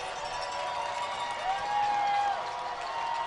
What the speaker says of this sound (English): And you see the crowd start to get into it. You hear it actually.